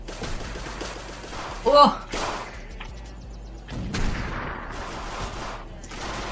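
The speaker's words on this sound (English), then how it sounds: "Where the hell are they shooting me from?" Gunfire in the Unturned World War II game: a burst of sharp shots near the middle stands out over steady game background, with other bursts scattered through, and a voice exclaims briefly.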